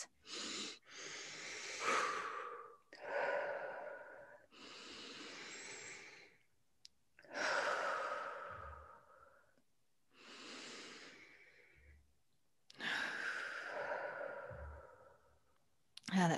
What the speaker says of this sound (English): So we'll take our 3 deep breaths.